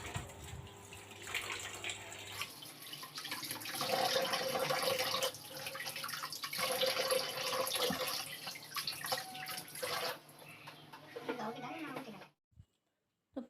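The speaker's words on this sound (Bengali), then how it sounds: "এদিকে শসা আর পেয়ারাটা ধুয়ে নিচ্ছি" Cucumber and guava are rinsed under a running kitchen tap, water splashing steadily with someone talking over it before the flow cuts off near the end.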